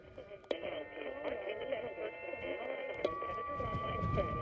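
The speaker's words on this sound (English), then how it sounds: "I got broadcast interference, and I can't operate" Broadcast interference on a Xiegu SDR amateur radio receiver, heard as a steady buzzing hash of tones with a whistling carrier and garbled voice-like modulation. It runs continuously at moderate level, with a brief click near the start.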